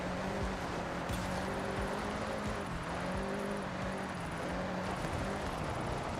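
A Subaru WRX STI 22B rally car engine in Forza Horizon drones steadily, its pitch rising and falling through gear changes and revs, close and continuous with no talk.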